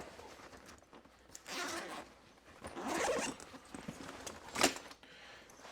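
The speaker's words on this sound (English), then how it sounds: "So again, big T-handle zippers. Open this up." A large T-handle zipper on a Reecoil Batwing climbing gear backpack is pulled open in several rasping runs of varying length, with a short sharp zip near the end, close and clear with no talk.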